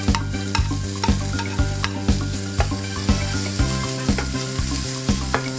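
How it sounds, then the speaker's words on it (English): Chopped bacon frying in a pan for an egg and cheese breakfast, with a steady loud sizzle and regular stirring scrapes throughout, no talking. "Start that frying."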